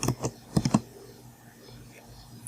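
A few quick keystrokes click on a computer keyboard while someone types SQL commands, clustered near the start, then quiet.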